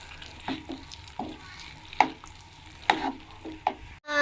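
Naan halwa with canned cream cooking in a pan, with soft stirring scrapes every second or so over a faint sizzle, close and fairly quiet.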